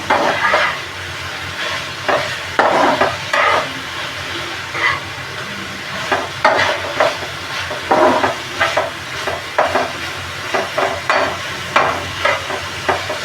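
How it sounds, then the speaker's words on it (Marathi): Marinated chicken for butter chicken being sautéed and turned in a pan, repeated scraping stir strokes in irregular bursts over a constant sizzle, close up and without speech. "सगळं परतून घेऊ फिरून घेऊ सगळं"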